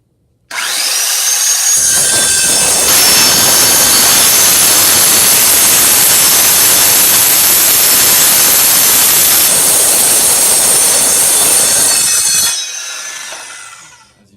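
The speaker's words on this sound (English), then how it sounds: "The saw requires two hands to use, and the smaller ones need a battery to power them instead of an outlet." A battery-powered hand saw cuts through wood clamped to a table, a loud continuous buzzing whine that holds steady for about ten seconds before winding down, heard alone.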